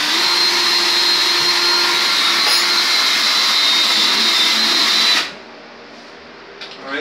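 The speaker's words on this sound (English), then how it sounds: "I'm gonna pre-drill the hole with the smaller drill bit" A steady, high-pitched power drill whine pre-drilling a hole with a small bit to hang a shower curtain rod runs continuously for about five seconds, then cuts off abruptly, leaving quiet room noise and a faint clunk.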